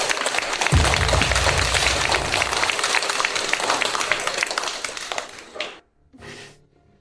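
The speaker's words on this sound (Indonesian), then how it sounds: "mari kita sambut dengan tepuk tangan kedatangannya" A crowd at a wedding applauding a guest's arrival: a sustained wash of many hands clapping, fairly loud and close, fading out around the five-second mark before a brief final burst.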